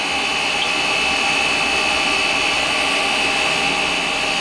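Chinese diesel heater running on hydraulic oil, a steady loud broadband roar with a constant high whine, like a blower or small burner, continuous and unchanging throughout with no talk.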